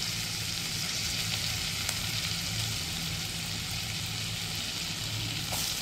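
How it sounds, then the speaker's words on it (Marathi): Chillies frying in hot oil with cumin and curry leaves for a spicy egg dish, giving a steady, loud, unbroken sizzle that runs alone from start to finish. "त्याच्यानंतर आपण या मिरच्या टाकायच्या।"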